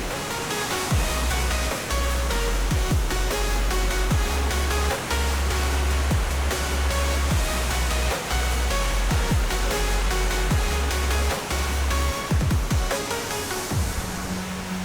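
A cool mountain stream in a forest on Chungnyeongsan rushes steadily, its broad, hissing flow running continuously beneath background music with a low bass line.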